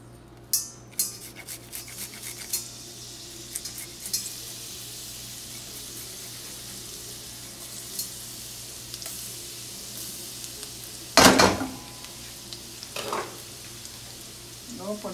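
Garlic fries in oil in a pan as chicken chop suey gets started, giving a soft, steady sizzle close by, broken by a few clinks and one brief louder clatter.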